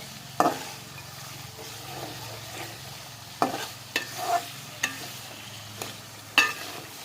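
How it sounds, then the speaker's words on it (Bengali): Meat frying in oil is stirred in a pan. A soft sizzle runs underneath, broken by several sharp scrapes and knocks of the stirring utensil at irregular intervals. "এভাবে আমি মাংসের মধ্যে তেলগুলো নেড়ে চেড়ে খাওয়াই নিচ্ছি মাংসতে কারণটা হচ্ছে মাংসগুলো যেন লেগে না যায়"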